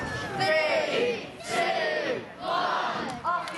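A crowd at a Flamingo Land Resort show cheers and yells in three loud surging bursts, each swelling and fading, with voices mixed into the roar.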